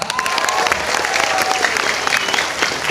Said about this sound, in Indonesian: Saya pengen tepuk tangan yang meriah kita dengarkan dari teman-teman Aliansi Seniman Jawa Barat